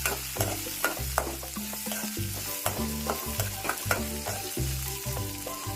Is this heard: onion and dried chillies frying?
yes